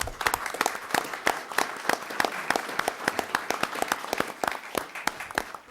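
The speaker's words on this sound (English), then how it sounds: "we wanted to give her a nice round of applause and welcome her aboard" A small group claps at a town board of selectmen meeting, a sparse round of distinct, separate handclaps close by that holds steady for several seconds with no talk over it.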